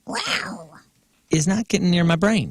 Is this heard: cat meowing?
yes